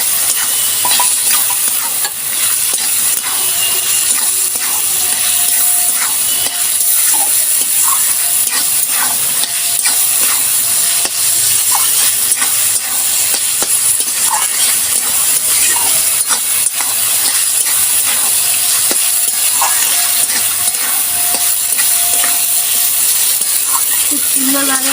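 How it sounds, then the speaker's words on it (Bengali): Chopped tomato, sugar and spices sautéing in a pan for a pointed gourd (kakrol) dish, a loud, steady sizzle and hiss with frequent spoon scrapes and stirring clicks, a voice speaking at times over it. "ভালো করে আমি কষে নেব।"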